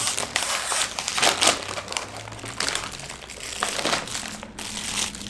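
A heavy plastic bag crinkles and crunches in irregular bursts close by, loud rustling bouts with brief pauses between handlings.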